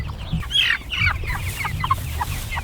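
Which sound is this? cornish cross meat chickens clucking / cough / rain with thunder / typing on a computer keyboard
cornish cross meat chickens clucking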